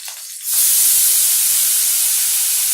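Apples dropped into a hot pan for apple kheer set off a sudden loud, steady hiss and sizzle after a brief quieter moment, and the sound holds strong and close until the end.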